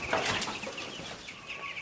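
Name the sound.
chickens in a poultry farm in the morning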